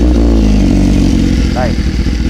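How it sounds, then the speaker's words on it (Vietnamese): A BMW S1000RR sport motorcycle engine runs at a noisy steady idle, loud and close, with someone speaking over it. "Rồi nổ máy hơi ồn tiếng nhanh này."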